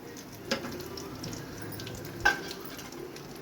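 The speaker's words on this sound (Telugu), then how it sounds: "మొత్తం ఫ్రై అయిపోవాలి మంచిగా." Mustard seeds, cumin, dried red chillies and turmeric fry in oil for a bottle gourd chutney tempering, a soft steady sizzle with two sharp utensil clicks, near and fairly quiet.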